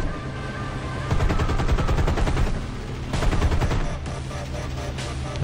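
Rapid bursts of .50-caliber machine gun fire from a P-51 fighter during an air battle with B-17 bombers in War Thunder, two loud sustained volleys separated by a brief pause, with no talk.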